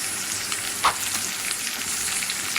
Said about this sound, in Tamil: பூண்டு, இஞ்சி, வெங்காயம் போட்டு நல்லா வதக்கி வைக்கணும்